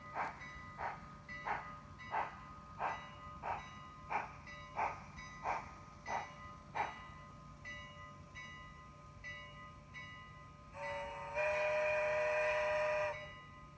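A model railroad train on the PC&N Ry layout pulls into Equinox station, giving a steady run of about a dozen evenly spaced chuffs or clicks over a low hum, ending in a louder sustained whistle-like tone.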